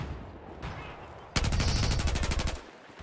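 Gunfire in Battlefield 4: a faint shot is followed by a loud, rapid automatic burst of evenly spaced rounds lasting about a second, which then tapers off.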